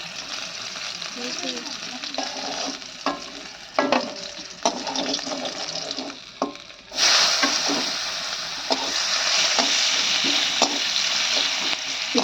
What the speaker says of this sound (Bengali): ভোলা মাছগুলো মা একটু শক্ত শক্ত করে ভেজেছে